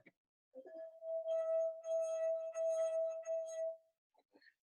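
A drinking glass partly filled with water rings with a clear, sustained musical note. The single steady tone holds for about three seconds with no talking, then fades quickly.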